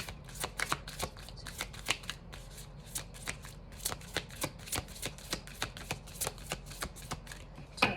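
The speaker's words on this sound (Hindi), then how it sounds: "आपके सामने ही मैं शफल कर रही हूँ, कार्ड नहीं गिर रहे हैं" A deck of tarot cards is shuffled by hand in a steady run of crisp, quiet flicking taps, close and continuous for several seconds, with no talking.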